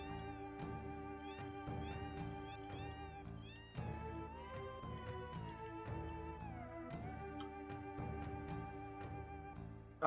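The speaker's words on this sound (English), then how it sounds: "that's a house full of cats." Cats meowing in a house inside the Final Fantasy VII video game, repeated short mews over steady game background music, moderately loud and close.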